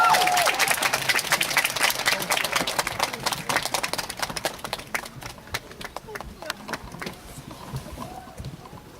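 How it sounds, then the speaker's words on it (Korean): A theatre audience at a film screening of The Water Diviner claps warmly to welcome arriving guests, a dense, loud patter of many hands that gradually thins and softens over several seconds. "큰 박수로 맞이하겠습니다"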